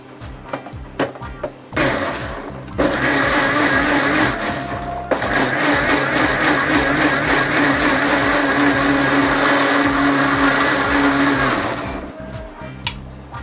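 An electric blender grinds mango with a few spoonfuls of sugar for Indian mango custard, a loud, continuous whirring roar that runs for about ten seconds, with a few short clicks and knocks before it starts and after it stops.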